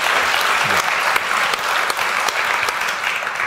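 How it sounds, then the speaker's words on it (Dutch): A studio audience at a Dutch talk show gives warm, sustained applause, a steady dense clapping that stays loud and even throughout with a faint voice underneath. "Geef een warm applaus."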